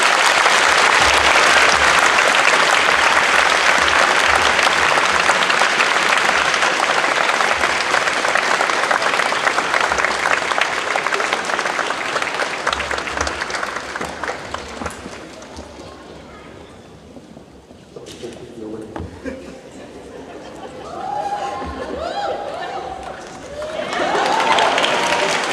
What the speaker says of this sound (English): please give Mr. Miyauchi another round of applause as he departs